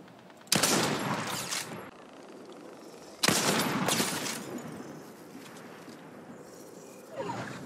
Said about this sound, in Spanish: ¿Dónde son esos disparos, weón?